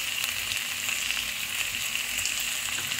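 Shrimp and potato curry with salt and turmeric sautéing in a pan, giving a continuous bright sizzle up close, with faint stirring scrapes barely rising above the frying.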